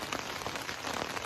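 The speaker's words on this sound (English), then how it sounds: "it's started to absolutely chuck it down" Heavy rain drums steadily and densely on a tent by a tarn in the Lake District, close and continuous, with no voices.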